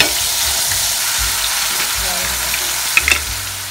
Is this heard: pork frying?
yes